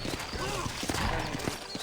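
Horses in the Red Dead Redemption video game, in New Austin, give off hoof clip-clops and a whinny amid dense game sound, with voices talking over the mix.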